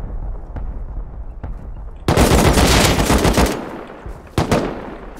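Gunfire in the survival video game Rust: a quiet background with a few faint distant shots, then a loud, rapid burst of automatic fire lasting over a second, and another sharp volley near the end.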